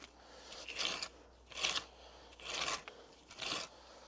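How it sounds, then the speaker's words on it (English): A garden rake scrapes and drags dead thatch from a worn-out lawn being renovated, working against the grain of the grass: four rough, raspy strokes in a steady rhythm, close by and moderately loud, with no talking. "Take the rake, make sure to scrape to break up the surface."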